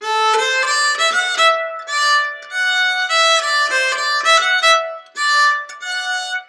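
Swedish tune played on a melodic instrument, its opening two eighth notes detached, short phrases of clear sustained notes separated by brief gaps, played alone.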